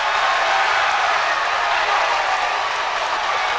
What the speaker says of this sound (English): That's the Monticello crowd making noise now.